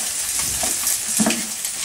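Food frying in a pan while being stirred, a close sizzle with scraping stir strokes over about two seconds, no voices.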